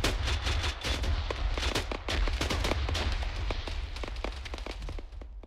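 Frag grenade blast and ensuing combat in the video game Arma 3, a dense rolling spread of sharp cracks and rumbling reports, loud and steady with no talk.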